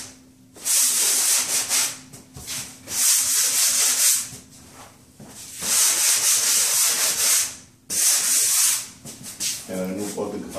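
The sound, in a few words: light sanding of drywall compound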